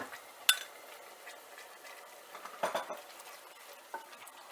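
A spoon scrapes and taps against a pan while ketchup is stirred into white sauce pasta, a few sharp clinks over a faint, quiet background.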